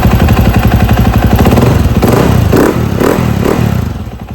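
A KTM motorcycle engine runs loud and close, a rapid pulsing idle with rough throttle blips and clattering mechanical knocks toward the end, then easing off.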